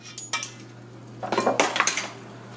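A metal measuring teaspoon clinks against a container while smoked paprika is scooped for burger seasoning, giving a few light close taps early on, then a busier run of rattling metallic clatter, with no talking.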